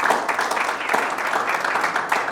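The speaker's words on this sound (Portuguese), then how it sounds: "Uma salva de palmas." Audience applause at a business talk event, a steady dense wash of many hands clapping at moderate loudness throughout, with no voices over it.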